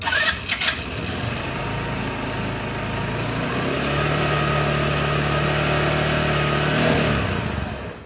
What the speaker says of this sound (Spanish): Ahora vamos a grabar el sonido de la moto.